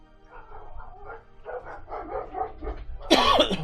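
Dogs barking in a home, starting with muffled yips and woofs that build up to a loud, close outburst at the end.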